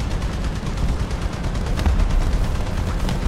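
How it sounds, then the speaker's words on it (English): Dense, continuous gunfire in War Thunder ground realistic battle, Pz.35t tank, a steady rumbling barrage of shots and booms with a brief louder burst midway, no voices. "Some firing going on to my left."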